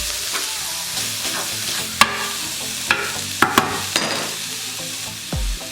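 A whole unpeeled garlic clove cooks in oil left from onions in a pan, producing a low continuous sizzle broken by sharp clicks and knocks of a utensil, close and fairly quiet.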